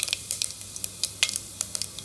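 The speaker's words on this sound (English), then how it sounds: "Let it sizzle." Cumin seeds sizzling in hot oil for a dal tadka, sharp scattered crackles and pops over a soft frying hiss, close and fairly quiet, with no talking.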